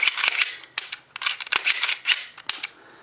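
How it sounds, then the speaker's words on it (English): A magazine is pushed into a Smith & Wesson M&P 40 full-size pistol, giving a run of sharp, close metallic clicks and snaps in quick succession with no talk. "you can just take a mag, push it in there, and actually pushes that shear back in place"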